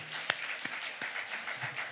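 A church congregation at a festival worship service in Gimpo claps: a few sharp, distinct claps stand out early over a softer, ongoing patter of applause.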